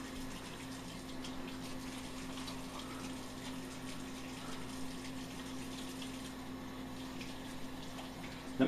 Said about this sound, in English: Go ahead and wash your hands there.